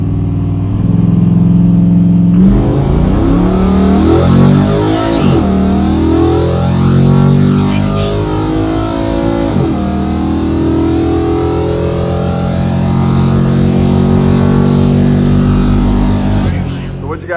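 A Pontiac Firebird with a 305 small-block V8 accelerates hard on a drag run, its loud, distorted engine roar climbing through repeated rising sweeps as it shifts through gears.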